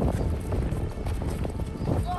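Horse galloping during a riding lesson, with steady, rapid hoofbeats running throughout under loud, continuous voices and instructions.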